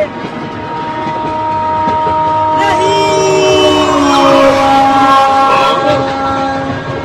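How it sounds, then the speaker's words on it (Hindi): Cartoon train drawing near with a loud, sustained horn blast and rumbling rails that swell toward the middle, heard alongside brief voices. "देख ट्रेन बहुत पास आ गई है"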